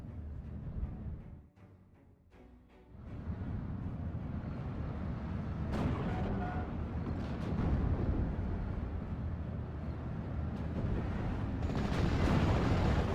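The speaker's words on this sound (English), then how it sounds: "We got a bombing run coming on in." Heavy rolling explosions from a bombing run in the World War II strategy game Steel Division 44, striking mortar half-tracks and an anti-tank gun; a dense, continuous rumble of blasts that builds louder toward the end after a brief lull.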